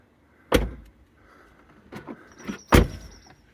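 A Tesla Model 3 door being shut after a check strap replacement, with two sharp, solid thuds about two seconds apart, the second louder, plus faint clicks and a brief electric whir between them.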